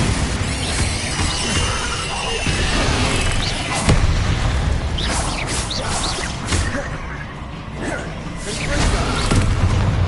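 Bombarda spell blasts in Hogwarts Legacy go off as a rapid string of booming, crackling explosions, mixed with other spell effects and shouted spell names.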